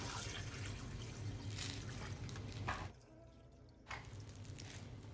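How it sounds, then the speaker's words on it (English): Water poured into a cooking pot for green chicken pozole, a steady broad splashing stream running nearly continuously, briefly dropping away partway through before resuming, with no talk. "Now I'm going to add the 3 quarts of water."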